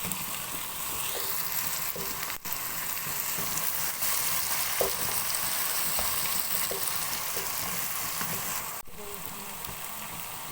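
Mixed vegetables sautéing over a medium flame in a pan for vegetable pulao, a continuous close sizzle with occasional light stirring scrapes and small pops, steady throughout with no talk.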